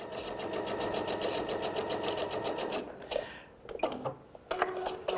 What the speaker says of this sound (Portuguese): Vou para a máquina e vou costurar